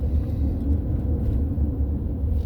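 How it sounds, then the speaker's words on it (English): A sport bike leans hard through a corner on a mountain road, its engine a low, distant rumble that swells and fades slightly without any talking. "there's sport bike just really laying it out around the corner"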